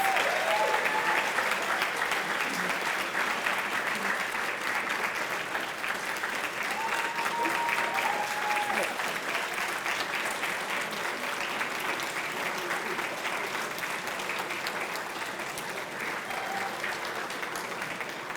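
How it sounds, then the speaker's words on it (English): A banquet audience applauds award recipients at a school academic excellence event, steady dense clapping filling the room throughout, with faint voices briefly audible beneath it. "Please help me congratulate all of our award recipients with one more round of applause."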